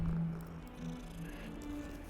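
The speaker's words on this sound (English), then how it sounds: "Purr, kitty, purr." A cat purrs in a video game as it is being petted, a low steady rumble that runs continuously and fairly softly for about two seconds with no voices over it.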